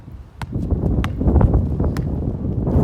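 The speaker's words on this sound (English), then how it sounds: "Again, it's super windy here." Steady low rumbling wind buffeting the microphone, building after a quiet start, with a few faint clicks and rustles over it.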